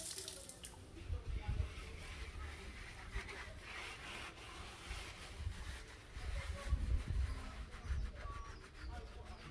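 Running water rinses conditioner out of hair with hands rubbing through it, a faint, steady splashing and trickling with occasional louder swells of water.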